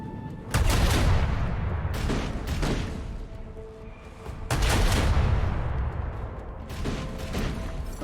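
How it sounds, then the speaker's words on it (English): A torpedo salvo fires in the Rogue Trader video game, heard as loud rumbling launch blasts in two main bursts with lighter booms between them and no speech. "Get those torpedoes out. Salvo."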